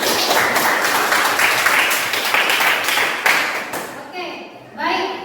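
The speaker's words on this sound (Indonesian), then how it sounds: "Tepuk tangan." A classroom of students claps together in dense, steady applause for about four seconds, then it thins out as children start chattering.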